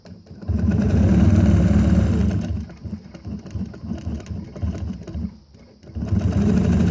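A Nolting NV longarm quilting machine with a ruler foot stitches along a quilting ruler, producing a loud, continuous motor hum and rapid needle chatter that rises and falls as the stitching speed changes, with a short lull near the end.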